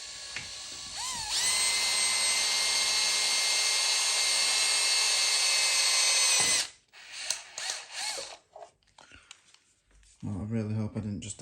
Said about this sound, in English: the drill bit just slips off and goes into the rubber part